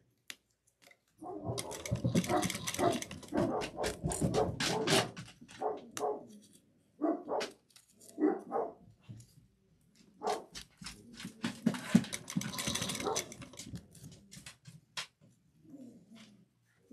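Small puppies yap and bark in bursts at home, a string of sharp, fairly close yelps with short pauses between, some whimpering mixed in and no talk.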